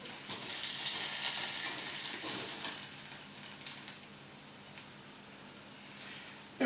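Hot bacon grease is poured out of an Instant Pot, a bright splashing, sizzling rush that is strongest at first and then thins to a quieter trickle before a final clunk.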